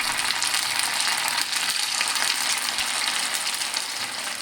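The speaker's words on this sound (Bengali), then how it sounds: "এইভাবে এক এক করে তেলের মধ্যে ছোট ছোট গোল গোল করে দিয়ে দেব।" Small round potato and rice pakoras fry in hot oil, making a continuous, dense, close crackling sizzle that stays loud and even from start to finish, with no voices.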